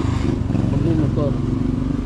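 A motorcycle engine drones steadily and close by on a rough, muddy rural road, a continuous low rumble throughout with a voice speaking over it.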